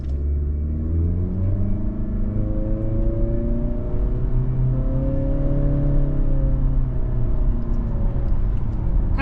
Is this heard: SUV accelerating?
yes